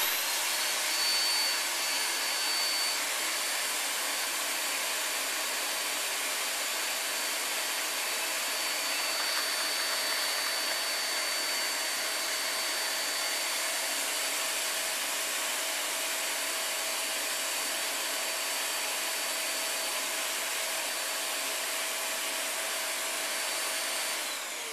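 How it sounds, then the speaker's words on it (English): A vacuum cleaner switched on by a foot pedal runs in a steady, loud, high whine for about 25 seconds, with no other sounds or talk. "Now on with the vacuum cleaner, and I'm using a foot mounted pedal here,"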